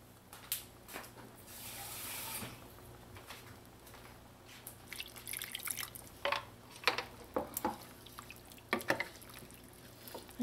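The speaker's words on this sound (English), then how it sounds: "Just gonna add a little more water to this" Water dripping and splashing as it is poured into a pot of drunken noodle soup; a brief steady pour early on, then a run of uneven, close drips and small splashes, fairly quiet overall.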